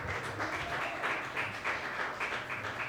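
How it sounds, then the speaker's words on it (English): A room full of audience members applauds steadily at a gathering, dense, even clapping that swells slightly in waves and continues without a break throughout. "That's why I say give me a round of applause."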